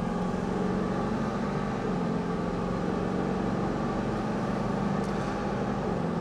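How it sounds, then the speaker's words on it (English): Steady, loud road and engine drone from inside a Ford F-450 4x4 pickup with a 6.4 engine under acceleration, an even broadband rumble with no talking. "All right, I'm going to punch it again."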